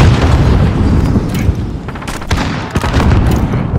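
Dense, loud gunfire and explosions roll on continuously in a Call of Duty: Modern Warfare multiplayer match, with booming low-end bursts and sharp cracks layered through the whole stretch.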